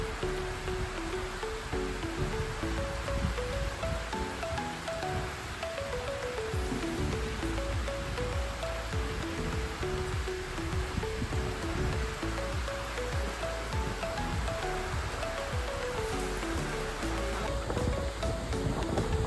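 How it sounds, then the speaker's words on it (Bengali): Heavy rain pours down at Mawa ferry ghat on the Padma river, a dense, steady hiss of rainfall that continues unbroken and evenly loud throughout, with no talking. "আপনাদেরকে একটু বৃষ্টি দেখাই।"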